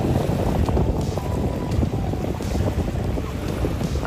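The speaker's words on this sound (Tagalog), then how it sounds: "So yan yung nagaganap ngayon na paraw sailing po dito sa Manila Bay" Paraw sailboats out on Manila Bay off Dolomite Beach on a morning, heard as a constant rush of wind buffeting the microphone over low, churning water and wave noise.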